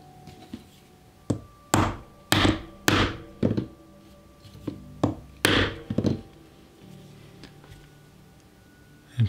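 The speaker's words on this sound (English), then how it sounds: "And punch through just till the chisel teeth are coming through" A steel chisel struck with a mallet to punch holes through leather for a handmade slim wallet: a dozen or so sharp, woody knocks in an uneven rhythm, close and loud, with quiet pauses between the blows.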